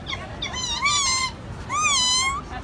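Two drawn-out cat meows come from a human voice imitating a cat, each one rising then sliding down. They sound close and clear over a light background hiss.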